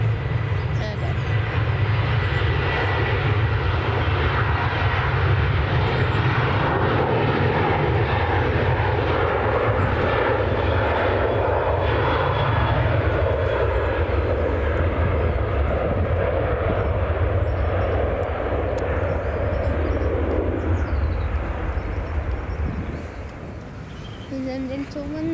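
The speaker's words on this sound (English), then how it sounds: "Is going to Gothenburg and it's Boeing 737." A Boeing 737 jet departs Manchester Airport, its loud, steady engine roar sustained close by for about twenty seconds before easing off slightly near the end.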